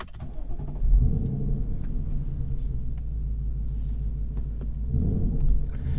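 A 2024 Ford Mustang GT with a six-speed manual gearbox rumbles steadily from inside the cabin as it drives off at an easy pace, its low engine note swelling slightly in two places, with no talk over it.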